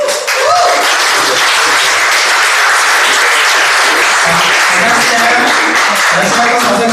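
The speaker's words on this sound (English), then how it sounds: "let's round of applause to Toastmaster Albert to the stage." Sustained audience applause at a Toastmasters area contest fills the room steadily for several seconds, dense and loud, with a few voices faintly mixed in.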